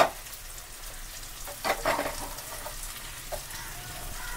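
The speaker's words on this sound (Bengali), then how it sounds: "আর এর মধ্যে আমি দিয়ে দেবো এবার আমার হালকা একটু সেদ্ধ করা অড়হর ডাল" Lightly boiled toor dal is tipped into sambar simmering in a pan, a soft wet splash and stirring over a quiet, steady sizzle, with a few brief splatters.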